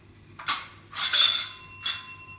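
A puppy rings a small bell, three bright metallic jingles spaced about half a second apart, close and clear over a quiet indoor background hum.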